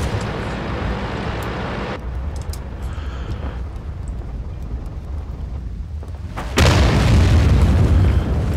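A World of Tanks tank cannon fires: a quiet rumbling engine and faint clatter build up, then one sudden loud boom hits near the end and keeps resounding.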